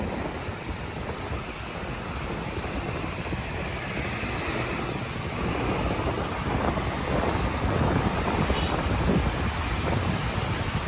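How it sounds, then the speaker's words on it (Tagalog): Strong wind roars steadily and loudly throughout at Manila Bay, a dense rushing noise with no voices. "Ang lakas ng hangin"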